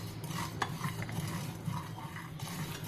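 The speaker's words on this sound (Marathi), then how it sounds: "एक दोन ते तीन मिनिटं हा मसाला भाजून घेते" A spice masala is dry-roasted and stirred in a pan, a soft continuous scraping with faint sizzle and occasional light clinks of a spoon against the pan, close but quiet, with no voices.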